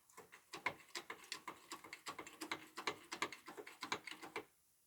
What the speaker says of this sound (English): now we're going to use a smaller jack to lift up the axle to meet up with the spring